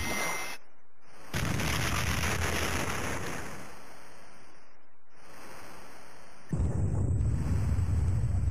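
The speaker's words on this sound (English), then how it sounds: "we get an explosion when they blow up" Torpedo explosions in the Amiga submarine game Das Boot: loud, rumbling blasts that roar for several seconds, drop out briefly, then burst again with deep booming noise.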